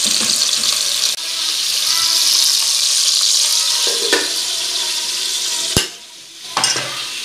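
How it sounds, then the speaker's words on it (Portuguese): Steady, loud sizzling of sausage frying in a pan fills the clip, broken by a couple of clanks and a lid being set down near the end. "Vou deixar ela aqui fritando, ó."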